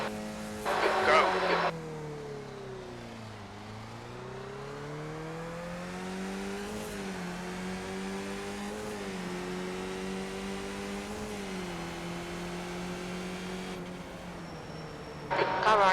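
Race cars circle Daytona in a racing video game, the engine drone rising and falling steadily close by as gears shift, with a brief louder burst at the start and again at the end.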